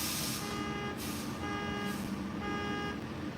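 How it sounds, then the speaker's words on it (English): Parked truck's alarm going off at midnight, sounding a steady repeating electronic beep pattern of regular pulses over a constant engine rumble, heard from some distance. "Like, I didn't even know your truck got an alarm."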